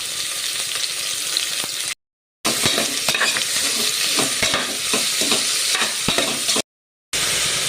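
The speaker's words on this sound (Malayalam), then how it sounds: "4 പച്ചമുളക്, 2 സവാള എല്ലാം കൂടി നമുക്ക് നല്ലതുപോലെ ഒന്ന് വഴറ്റിയെടുക്കാം" Green chillies and onions sauté in a pan, a continuous close sizzle with frequent stirring scrapes, interrupted by two brief silent gaps.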